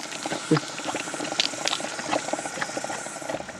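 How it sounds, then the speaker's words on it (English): Hot mud boiling in a hole in the ground at a volcanic spot in the woods, with steady bubbling, hissing and popping close by, and scattered soft plops throughout. "trying to catch boiling mud from a hole in the ground"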